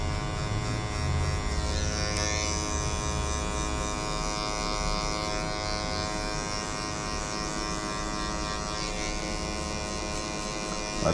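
Electric hair clippers buzz steadily and continuously close up while cutting hair in a barbershop-style haircut, a constant whirring drone with slight shifts in pitch as they move.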